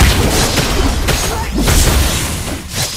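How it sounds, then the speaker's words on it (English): A turret is destroyed in Mobile Legends, a loud, booming explosion with crashing bursts that fills the whole moment, layered with dense game effects. "Our turret has been destroyed."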